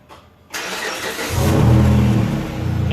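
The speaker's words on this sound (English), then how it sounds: "So this is pretty much a cold start." A car engine cranks and catches after a moment of quiet, then settles into a loud, rumbling idle that rises briefly before steadying.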